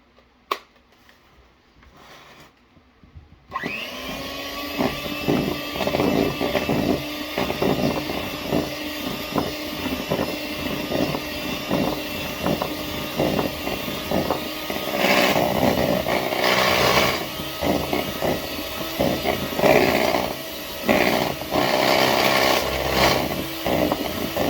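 Electric hand mixer beaters whirring through donut batter: after a quiet start with a few clicks, a steady loud motor drone starts up and runs on, with a rattling scrape of the beaters against the bowl.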